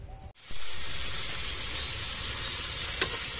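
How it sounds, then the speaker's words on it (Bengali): Shrimp coated with turmeric and salt fry in a pan aboard a boat in the Sundarbans, giving a steady loud hiss and sizzle close by, with a brief clatter near the end and no voices. "সত্যি চিংড়ি মাছ ভাজাটা দারুণ হচ্ছে"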